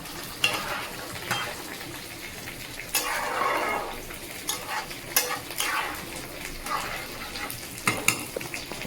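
Boiled potatoes going into a pot of simmering khichuri, heard as repeated stirring with a spoon clattering and scraping against the pot over a soft bubbling sizzle. Several distinct clanks come in irregular bursts.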